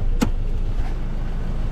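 A car pulls forward in a parking spot, a steady low engine and road rumble running close and continuous, with a brief sharp mechanical whir near the start.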